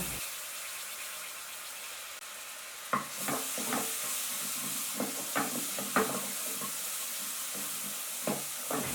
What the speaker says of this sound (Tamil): இந்த டயத்தில் 1 டேபிள் ஸ்பூன் இஞ்சி பூண்டு விழுதை நான் சேர்த்துக்கிறேன்